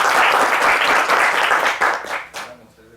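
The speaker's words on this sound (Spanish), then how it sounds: "recibamos un aplauso" An audience claps after a conference talk, a loud burst of applause that holds steady and then tapers off toward the end, leaving a few scattered claps and near silence.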